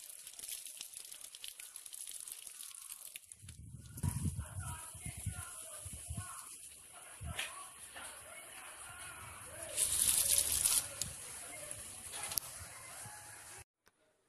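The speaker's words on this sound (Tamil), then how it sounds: "இப்போ கரிசலாங்கண்ணி கீரையை நல்லா தண்ணியில் வாஷ் பண்ணுங்கள். ரன்னிங் டேப் வாட்டரில் கூட வாஷ் பண்ணலாம்" Karisalankanni greens are rinsed under a running tap, with intermittent low splashes and sloshing over a steady hiss of flowing water, growing busier in the middle and cutting off near the end.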